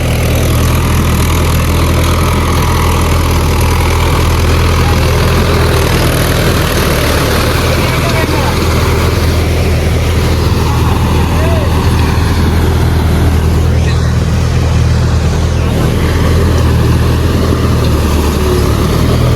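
A Mahindra tractor engine holds a steady 1300 RPM in third gear, medium range, while plowing a field, giving a loud continuous low diesel drone close by with someone talking over it.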